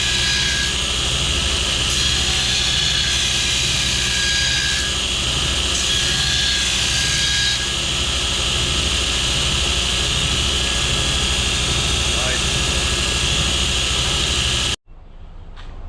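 A steel mower blade is ground on an Oregon belt blade sharpener, giving a loud, steady, unbroken grinding roar that cuts off abruptly near the end.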